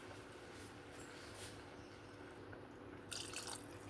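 Water is poured into a pot of rice for mixed vegetable pulao, making a faint, steady splashing trickle at close range, with no talk over it.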